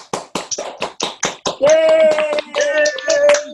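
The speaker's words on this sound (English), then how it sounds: "we're going to give you a big round of applause." Online meeting participants clap in a run of quick, uneven claps, then the sound turns into a dense, loud applause mixed with cheering voices.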